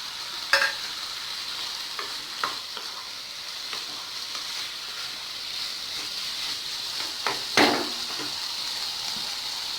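An egg mixture is stirred into noodles frying in a pan, giving a steady close sizzle with a few sharp scrapes and clinks of the utensil against the pan, and no voices.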